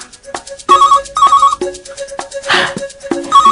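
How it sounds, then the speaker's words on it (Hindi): A telephone rings in repeated electronic bursts, loud and close, with a short pause between each ring. "लगता है ग्राहक का फोन आया।"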